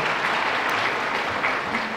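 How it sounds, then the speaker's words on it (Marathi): Warm audience applause for the professors at a college prize ceremony, a continuous, even patter of many hands clapping at moderate distance, with no voice over it. "त्यांच्यासाठी एकदा आपण टाळ्या वाजवल्या पाहिजे."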